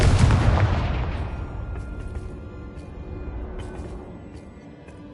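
A Confringo fire spell detonates in Hogwarts Legacy, a loud booming blast that rolls off into a long fading rumble with faint crackles, no voices.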